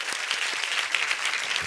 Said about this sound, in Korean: 다시 한번 주님께 박수하십시다.